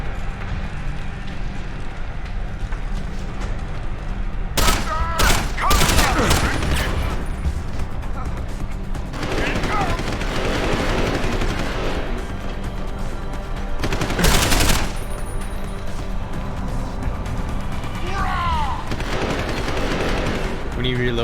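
Automatic gunfire from enemies in Deus Ex: Human Revolution: several loud bursts of rapid shots cluster around the middle of the stretch, and a shorter volley comes later. Steady game ambience runs underneath between the bursts.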